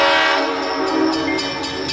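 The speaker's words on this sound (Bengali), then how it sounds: "আবার ট্রেনটা হর্ন দিল।" A train horn blares in one long sustained blast, loud and close, over the rumble of a train in a narrated romantic audio story.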